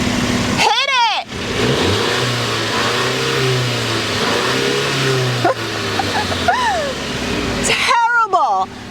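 A 2020 Mercedes-Benz GLC 300 4Matic engine revs hard several times, rising and falling in pitch, loud and close, with a dog barking in the background.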